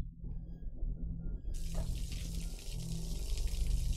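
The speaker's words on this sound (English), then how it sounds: "What's with the running water though?" A faucet runs in the video game Observer, starting abruptly as a loud steady gush of water after a low hum.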